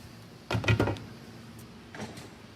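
A standard print bed lifted off an H-Series machine after its magnetic latches are flipped, giving a close clattering knock of plastic and metal parts followed by a fainter second bump.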